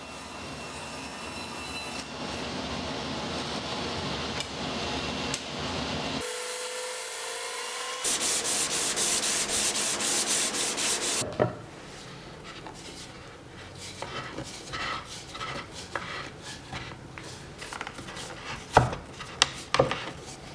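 A turned wooden side table part is sanded, giving a steady close abrasive rubbing. It shifts in tone across several segments, then gives way to lighter scraping and occasional knocks near the end.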